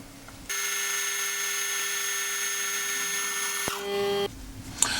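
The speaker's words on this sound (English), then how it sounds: "We can now drill our first hole." A steady, high-pitched machine whine runs for several seconds with strong tonal hum, then cuts off, as a drill bores a hole in metal on a rotary table.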